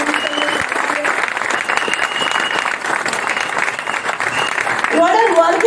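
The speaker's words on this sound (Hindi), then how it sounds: "एक जोरदार तालियां होनी चाहिए" Loud, steady audience applause at a Pune company meeting, sustained throughout and swelling near the end, with a voice speaking faintly over it.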